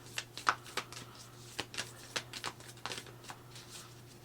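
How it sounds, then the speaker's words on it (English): A stiff deck of love oracle cards being shuffled, giving a string of quiet, irregular riffling snaps up close with no talk. "This deck is a little hard to shuffle."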